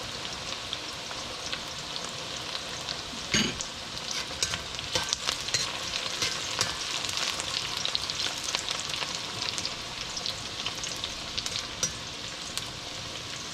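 Onions frying in a pan for a mutton curry, a steady crackling sizzle with a few scraping stirs and clinks, fairly close, no voices.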